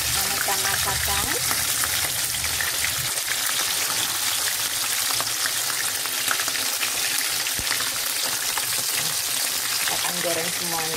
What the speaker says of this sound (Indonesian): Nah, ini saya goreng.